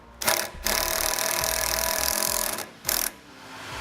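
A power driver running self-tapping screws into a trailer-wiring connector base plate on a 2008 Honda CR-V, with a short burst and then a long loud whirring drive, a pause, another short burst, and nothing spoken.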